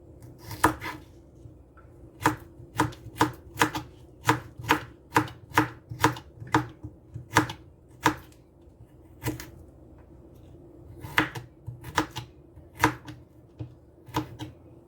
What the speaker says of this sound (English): Just cut up the carrots into little pieces too.